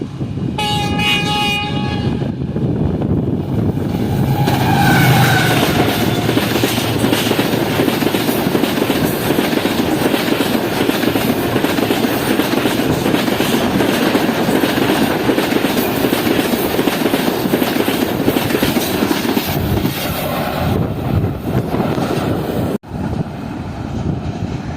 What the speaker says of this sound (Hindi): तो आज सबसे तेज़ जो है वो ये 6 डाउन गिलियन एक्सप्रेस ही गई है धाबेजी रेलवे स्टेशन से